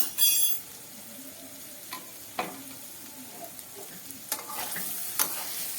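Vegetables with a little sugar frying in a pan for chire polao, stirred with a spoon: a low steady sizzle with scattered scrapes and clinks against the pan, close and moderately loud.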